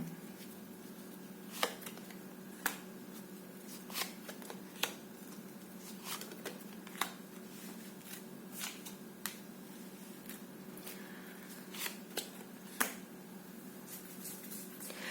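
Scattered sharp clicks and light snaps of tarot cards being handled and shuffled, irregular and close, over a steady low hum.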